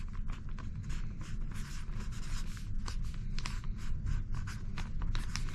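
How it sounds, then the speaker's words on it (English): A Sharpie marker scratches across a fabric laundry bag on a cruise ship as a name is written, giving a steady run of short squeaky strokes, close and fairly quiet over a low background hum. "you get your laundry pen or a Sharpie. Joni brings a Sharpie just for this, and you write your name on the bag"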